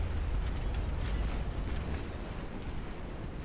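Torpedo hits explode against a battleship in the naval game Ultimate Admiral Dreadnoughts as a loud, sustained rumbling boom that fills the whole stretch with no voices.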